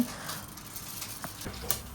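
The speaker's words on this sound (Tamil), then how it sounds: "பாத்திரம் சூடான உடனே ரெண்டு ஸ்பூன் வெந்தயம் சேர்த்து வெந்தயம் வருந்து வரட்டோன்னு" Two spoons of fenugreek seeds sizzle in a hot cooking pot at the start of a village-style fish curry, a soft steady crackle with a few sharper pops, close and quiet, no talk.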